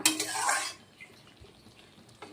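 A pan of vegetarian Malabar spinach curry made with home-grown greens gives a brief loud rustle and sizzle of stirring, then a metal lid clatters on, leaving near silence with a faint clink at the end.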